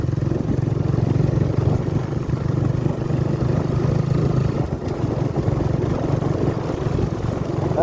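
Honda CBR150R motorcycle ridden along a village road, a steady low engine drone with wind rumble running continuously and fairly loud throughout, no talk.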